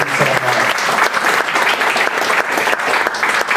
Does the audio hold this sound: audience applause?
yes